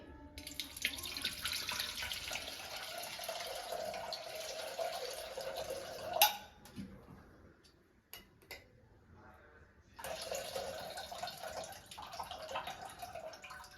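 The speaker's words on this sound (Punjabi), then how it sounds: "ਇਹਦੇ ਵਿੱਚ ਆਪਾਂ ਇਹ ਵਾਲਾ ਪਾਣੀ ਪਾ ਦਿੰਨਾ ਠੰਡਾ ਤਾਂ ਕਿ ਵਧੀਆ ਤਰੀਕੇ ਨਾਲ ਸਾਰਾ ਜਿਹੜਾ ਉਹ ਹੈ ਨਾ ਖਟਾਸ ਉਹ ਨਿਕਲ ਜੇ" Cold water poured from a tap into a pot of cream at a kitchen sink, a steady splashing rush that stops midway and then starts again, with a brief clatter between the two pours.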